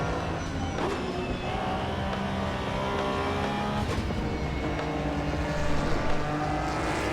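A race car in the sim racing game Assetto Corsa EVO, driven with a Moza R5 wheel, holds a continuous, loud engine whine with shifting pitch as it revs and changes gear, and brief rises near the end.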